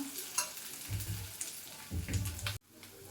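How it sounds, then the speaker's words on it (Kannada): Ginger-garlic paste frying in a pan for a Hyderabadi dhaba-style paneer gravy, crackling sizzle with a few spatula scrapes and stirring bursts, ending abruptly, no talk. "ಸ್ವಲ್ಪ ಕಲರ್ ಚೇಂಜ್ ಆಗಿ ಇವಾಗ ಫ್ರೈ ಮಾಡೋಣ."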